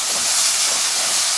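Chopped onions added to garlic sautéing in a hot pan, a bright steady hiss of sizzling that holds loud and even throughout, with no voices.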